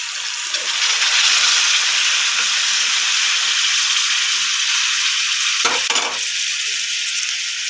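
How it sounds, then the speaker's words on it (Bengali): Malabar spinach stems hitting a pan of frying potatoes, a loud steady sizzle running throughout with a brief clatter of stirring near the end. "পুঁই মেচুরিটা এবার দিয়ে দিচ্ছি।"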